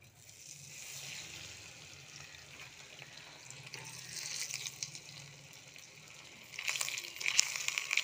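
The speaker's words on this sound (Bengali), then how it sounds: "ভাজার সময় কিন্তু ফ্লেমটাকে লো করতে হবে" Fish frying in hot oil over a low flame makes a quiet, hissing sizzle with watery crackle, growing louder and busier toward the end.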